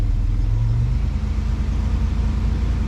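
Old Toyota 4Runner engine idling roughly after major engine repair, a steady close low rumble with an uneven, lumpy pulse running throughout and no talk over it.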